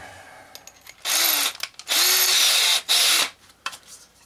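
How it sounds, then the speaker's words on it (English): A power drill whirs in three loud bursts, pitch rising as it spins up, drilling a 5/16-inch hole, with small clicks and handling noises between runs. "let's see if I can drill a 5/16 hole right about yay"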